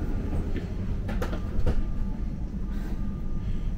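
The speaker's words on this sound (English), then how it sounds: "Oh, ito daw yung train namin." A train pulls into a station in Switzerland, a steady rumble of wheels and carriages with brief metallic clanks and hiss, fairly close and continuous throughout.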